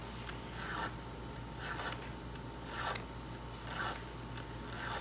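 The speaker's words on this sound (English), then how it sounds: "just a little bit more on the filing straight down" A hand file rasps in slow, steady strokes against a brass barrel key for an antique English sideboard, several faint close scraping passes with short pauses between them.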